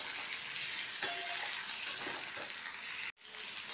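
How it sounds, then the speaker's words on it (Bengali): Ivy gourd sizzles in a pan as it is salted and stirred, a soft steady frying hiss with a spatula scrape near the start and a brief dropout toward the end. "এতে নুন দিলাম, দিয়ে ভালোভাবে নেড়ে নিচ্ছি"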